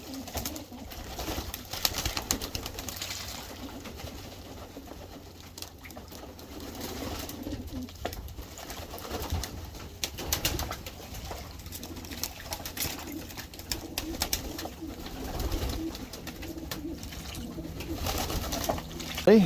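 Pigeons coo steadily in a loft, soft low throaty calls overlapping in a continuous murmur, with occasional faint rustling and some distant background talk.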